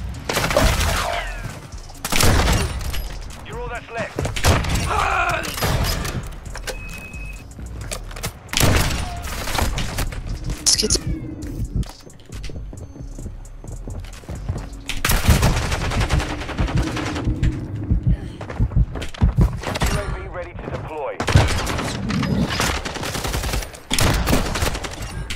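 Heavy gunfire in a first-person shooter game: loud bursts of rapid automatic shots and single cracks come in repeated volleys with short pauses between, lasting throughout.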